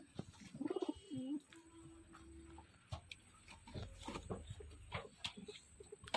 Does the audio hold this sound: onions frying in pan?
no